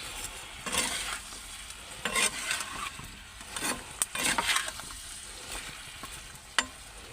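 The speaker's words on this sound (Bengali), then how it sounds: "নুন আর হলুদ দিয়ে ভালো করে ভেজে নেব।" Katla fish pieces frying in a pan with salt and turmeric, a steady sizzle with repeated scraping stir strokes and a sharp clack near the end, no talking.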